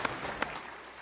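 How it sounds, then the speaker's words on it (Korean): A church congregation claps in applause during a worship service, a short burst of a few sharp claps that fades quickly, heard at moderate distance. "박수를 하나님께 드리겠습니다."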